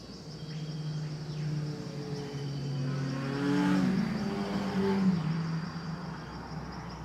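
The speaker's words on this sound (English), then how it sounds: "I think it's a motorbike." A motorbike engine drones past at a distance, its pitch rising and falling as it approaches and fades, faint against quiet outdoor ambience.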